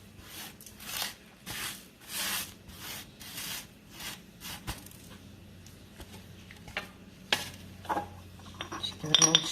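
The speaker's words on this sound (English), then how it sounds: "we're just going to rake all the rest of it off into the jar" Scraping the rest of a yoni oil herb mixture off foil into a jar, a series of rough rasping strokes of uneven rhythm with a few clinks near the end, fairly close.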